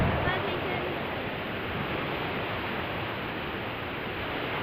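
Water rushing steadily at the Orting Rain Catcher, a dense, continuous broadband roar close by with no breaks or changes in level.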